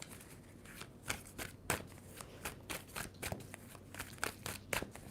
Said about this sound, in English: Scorpio, 2 more shuffles.